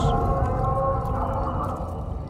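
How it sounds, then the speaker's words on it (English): A whale calls beneath an Underdark lake in Baldur's Gate 3, a long, sustained, tonal moan that holds steady at moderate loudness over a low rumbling bed. "That sounds like a whale living under this Underdark lake."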